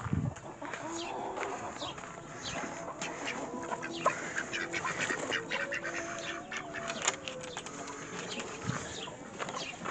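Silkie chickens and ducks in a coop, a steady mix of clucking and quacking from several birds throughout, close and moderately loud.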